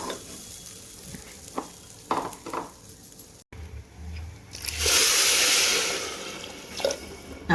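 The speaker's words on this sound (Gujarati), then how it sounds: "હવે આપણે જરૂર પૂરતું પાણી એડ કરી દઈશું." Water is poured into a pan of frying butter garlic masala khichdi made with rice and dal. Brief stirring scrapes come first, then a loud, sustained hiss as the water hits the hot pan, with no talking.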